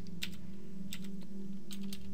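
Computer keyboard keys tapped a few times, faint clicks in small pairs over a steady low hum.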